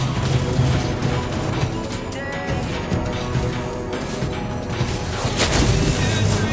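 A turret is destroyed in the Mobile Legends video game, bursting in a dense, loud stretch of booming impacts and mechanical crashes layered over continuous game effects.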